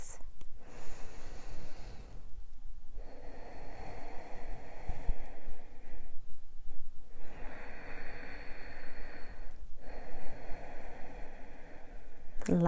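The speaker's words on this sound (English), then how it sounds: "Deep breaths." Slow, deep breaths during a slow-flow yoga class, long inhales and exhales in a steady rhythm broken by short pauses, close and fairly loud with no talking.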